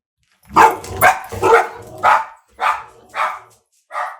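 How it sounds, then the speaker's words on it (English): A dog barks seven times in a loose, steady series, loud and close, with short silent gaps between each bark. "the dogs heard something"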